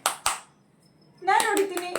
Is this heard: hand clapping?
yes